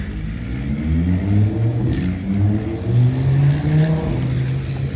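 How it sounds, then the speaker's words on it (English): An Audi R8 sports car engine droning loudly and revving as it drives past, the low tone swelling and rising in pitch. "Y'all, the R8 just drove by, bro."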